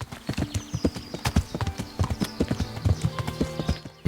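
Horse hooves gallop in the Kingdom Come: Deliverance video game, a fast, steady clip-clop rhythm close and loud throughout, with creaking tack and faint ambient noise underneath.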